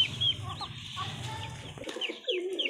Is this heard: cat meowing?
no